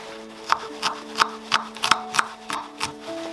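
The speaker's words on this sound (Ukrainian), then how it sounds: "Беремо цибулю і нарізаємо її кубиками." A knife dices an onion into cubes on a cutting board, about eight crisp, evenly spaced chops at close range, with faint background tones and no speech.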